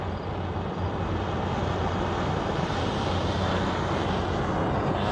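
A gas welding torch being used during a 1940 Ford engine installation gives a steady, close, broadband roar with no breaks and no speech over it.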